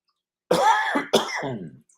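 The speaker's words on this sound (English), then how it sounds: "let me cough to the right" Two rough, throaty coughs in quick succession, close and fairly loud, with silence before and after.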